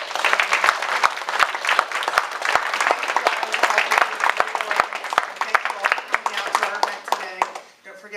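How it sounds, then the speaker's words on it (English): An audience at a DVAU event in Cherry Hill, New Jersey gives a loud round of applause, with dense, sustained clapping and a few sharp individual claps that fade near the end. "Everyone, let's get one more round of applause."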